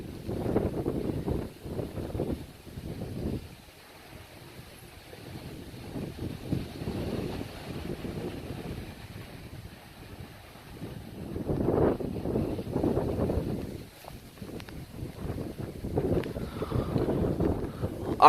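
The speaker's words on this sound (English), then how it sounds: "now I'm getting pelted by rain in the face all of a sudden." Rain and gusting wind from a severe thunderstorm on Dauphin Island, Alabama, buffet a nearby microphone in uneven rushing surges that rise and fall.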